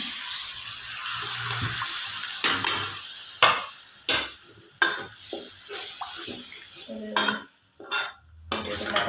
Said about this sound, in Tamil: கொஞ்சம் தண்ணி கொஞ்சம் ஊற்றிடுறேன்